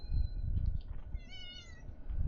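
A domestic cat in the Honkai: Star Rail game meows a few times, clear and close over a low background rumble.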